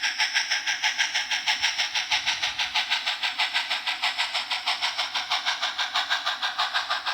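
An On30 scale model train runs on a mining layout, giving off a steady, rapid rhythmic chuffing hiss, evenly pulsed and fairly quiet, continuing throughout with no talking.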